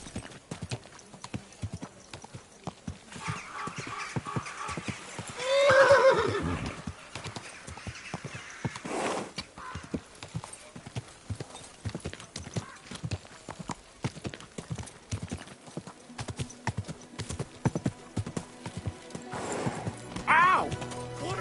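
In the medieval video game Kingdom Come: Deliverance II, a horse's hooves clip-clop in a steady walking rhythm while it whinnies loudly once midway and again briefly near the end, with someone speaking calmly over it.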